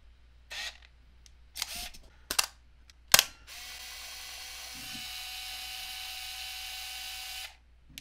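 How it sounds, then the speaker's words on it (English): Contax G1 film camera: small motors whir and click in a few short bursts, then a steady whining wind of the film for several seconds, close and quiet, with no talking. "It actually has autofocus and it can automatically wind film, which means that we get a lot of fun, kind of industrial sounds from its little motors."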